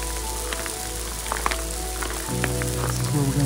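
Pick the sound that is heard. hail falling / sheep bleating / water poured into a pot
hail falling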